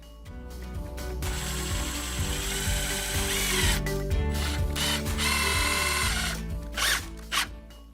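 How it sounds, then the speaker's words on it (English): A power drill drives 3-inch trim screws at an angle into wooden coffee table legs, its motor whirring loudly and steadily with a ratcheting clutch chatter, then short bursts as each screw seats. "I'm going to use some of these 3-inch trim screws and kind of toenail them back into the legs"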